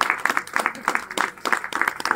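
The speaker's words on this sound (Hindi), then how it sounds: "जो हाथ नहीं उठता था वो हाथ ऊपर उठ के ताली बजा रहा।" An audience at a religious gathering claps along in a quick, rhythmic beat, loud and close, with a voice faintly present beneath the clapping.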